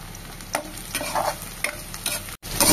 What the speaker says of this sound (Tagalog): Igisa ko na nga po ang sibuyas, bawang at luya